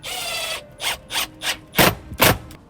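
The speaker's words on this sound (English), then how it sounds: "Start screwing in." Screws driven into a wooden drawer kit in a Toyota 4Runner, first a sustained drill whir, then a rhythm of short ratcheting bursts, each louder and close by, with no talk.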